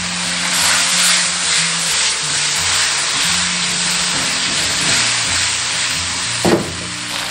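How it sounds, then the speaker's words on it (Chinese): Hot oil sizzles steadily around fish bones and head frying in a pan as cooking wine is drizzled along the edge for sour cabbage fish, the hiss continuous and loud with a brief sharper flare near the end. "沿锅边淋添料酒"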